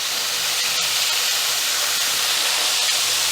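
Liver fries in grease in a pan, giving a steady, even sizzle and hiss that continues without a break throughout, with no voices.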